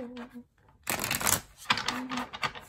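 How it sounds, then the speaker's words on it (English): Tarot cards are shuffled in quick riffling bursts, close and crisp, between short stretches of quiet with a little murmured talk. "one more shuffle"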